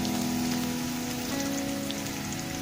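Onions sizzling and frying in oil in an iron kadai, a steady close crackling hiss that runs unbroken throughout with no voices.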